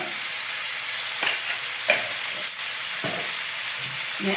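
Vegetables for a home-style Bengali chicken stew sauté in a hot pan, a steady close sizzle broken by several sharp scrapes and stirs of the spoon, with no one talking.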